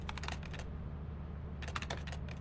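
Quick bursts of keystrokes tap out a command on a terminal keyboard in the video game Lethal Company: a short clattering run, a pause, then a second longer flurry of close, crisp key clicks with no talking.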